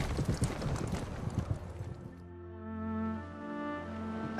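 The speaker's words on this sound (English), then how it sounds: "she sees him return on the back of Cold Hand's horse" Horse hooves clip-clopping in a Game of Thrones scene, a rapid run of hoofbeats for about two seconds that gives way to sustained orchestral tones.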